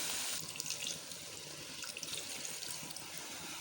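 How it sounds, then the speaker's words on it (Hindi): Water poured into a pan of aloo palak on the stove, a steady close stream of splashing liquid lasting a few seconds. "अब इस टाइम पे हम इसमें पानी ऐड कर लेंगे"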